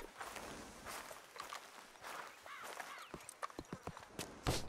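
Horses walk with soft clip-clop hooves in the Red Dead Redemption 2 video game, an uneven string of faint steps against quiet ambient background, growing a little more distinct toward the end.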